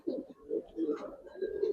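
Pigeons at a market stall selling Giribaz and coloring pigeons coo in low, throaty pulses. A few rolling coos follow one another closely at moderate, close range, with faint background murmur.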